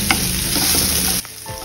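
Stuffing for stuffed capsicum fries in a pan until brown, with a loud, close, continuous sizzle that suddenly drops to a quieter hiss near the end.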